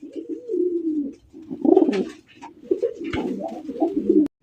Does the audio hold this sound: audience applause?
no